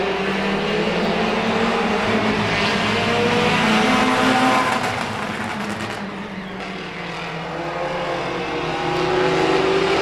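Race cars in a feature event roar around an oval track, a continuous loud engine drone swelling and fading as the pack passes, with tire noise and no talking.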